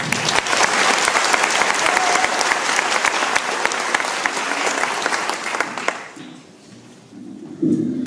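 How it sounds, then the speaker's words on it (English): Audience at a school concert breaks into steady, dense applause filling the room, then the clapping thins out and trails off into scattered claps and quiet. "So, Jess, let's give you another round of applause for that."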